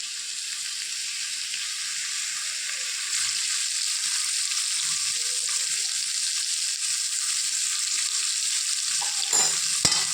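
Ivy gourd fries over a high flame, a constant bright sizzle filling the clip with soft stirring movements underneath and a louder scrape near the end.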